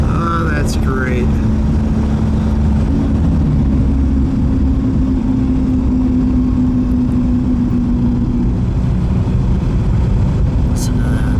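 A 1938 Packard Twelve Model 1607 formal sedan's V12 drones steadily from inside the car while driving and accelerating, a loud continuous low rumble with a rising tone, and a voice speaks briefly near the start.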